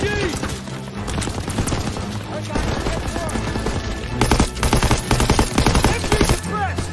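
Machine gun fire in Call of Duty WWII combat, rapid sustained bursts of rattling shots, loud and close, growing denser toward the end amid other battlefield noise and occasional shouted voices.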